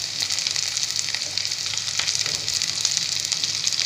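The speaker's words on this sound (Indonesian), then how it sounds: "kemudian bunga lawang dan kayu manis. Ditumis sampai wangi." Ginger, star anise, cinnamon and sliced green chili frying in hot oil for chicken biryani, a loud, steady, crackling sizzle close up with faint stirring and no talk.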